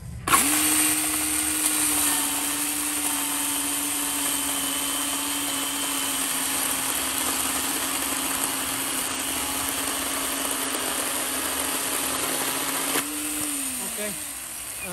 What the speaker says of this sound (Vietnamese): em sẽ cưa cái cây cái đường kính cũng lớn lớn cho anh em mình luôn